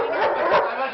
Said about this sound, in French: Ce croisement entre un dog argentin et un boxeur américain n'est pas commode.